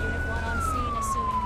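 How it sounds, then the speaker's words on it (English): Police-style siren wailing from a fire truck in Firefighting Simulator, one slow falling tone sweep, fairly loud and steady over a low engine rumble, with brief brighter bursts of game noise. "Turn your siren off."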